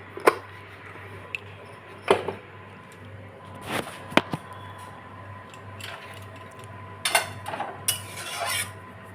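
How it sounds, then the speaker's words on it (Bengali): Ghee and garam masala being stirred in a pan: scattered scraping and clinking of a utensil against metal, with sharp taps at intervals over a steady low hum, moderately close and fairly quiet. "ঘিটা দিয়ে একটু নাড়িয়ে নিলাম, এবার একটু গরম মশলা দেবো।"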